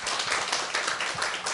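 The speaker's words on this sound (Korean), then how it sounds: "우리 수고한 집사님께 우리 감사의 박수로 한번." Church congregation applauding deacons in thanks, a dense steady patter of many hands clapping throughout, close and fairly loud with no voices over it.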